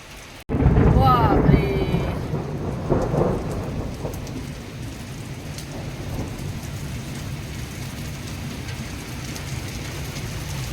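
Heavy cloudburst rain pours steadily with a sudden loud crack of thunder at the start, then rumbling fading into a constant dense hiss of rain on surfaces; faint voices briefly appear near the beginning.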